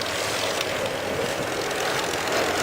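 A 1930s Gloster Gladiator biplane's piston engine drones steadily at an air show, a continuous rough propeller hum at moderate distance with no talk over it.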